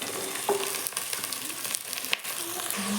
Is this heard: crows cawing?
no